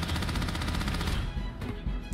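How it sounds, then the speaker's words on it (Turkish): Rapid automatic gunfire from the sci-fi video game Starfield, a fast rattling burst of shots that fills the first part, then thins into a few scattered shots. "Silah vurma efekti, yani hissiyatı iyi gibi gözüküyor."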